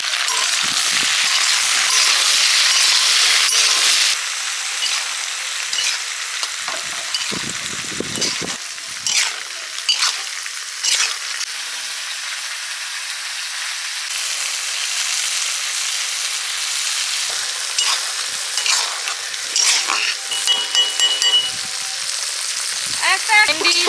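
Okra frying lightly in mustard oil, a steady bright sizzle with occasional crackles and soft stirring clinks, close and continuous with no talk.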